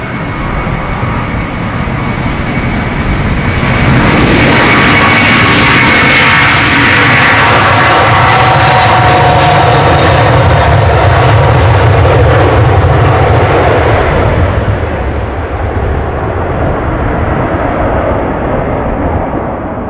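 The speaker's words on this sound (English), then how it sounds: "Probably a short takeoff." A jet airliner departs from runway 36L at Amsterdam Schiphol, its engine roar swelling to a loud, broad rush at close range before easing off as it climbs away.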